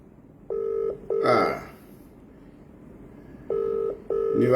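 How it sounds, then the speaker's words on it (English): A telephone call tone repeats as two pairs of short, clean electronic beeps, with a brief rustle and a quiet gap between the pairs. "Iwe Beverly, answer the phone."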